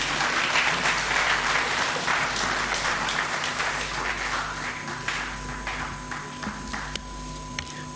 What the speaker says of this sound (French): Sous vos applaudissements, j'invite Maître Odette.